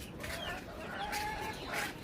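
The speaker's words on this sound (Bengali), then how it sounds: "এই যে আমার মুরগিগুলো সব ফাউমি মুরগির বাচ্চা" Desi chickens, young Fayoumi birds kept on a rooftop, give soft brief clucks, faint and close in a quiet morning setting.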